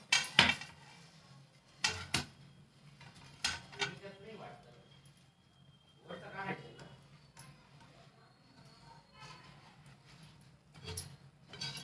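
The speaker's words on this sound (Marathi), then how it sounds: "ते मिश्रण झाले चांगलं रेडी घट्ट असं आता एका ताटात काढून घेते थंड करण्यासाठी" A thick cooked dry-coconut modak filling is scraped from a pan onto a plate with a utensil, giving sharp metallic clinks and scrapes in scattered bursts, fairly close and moderately loud, with quieter handling sounds between.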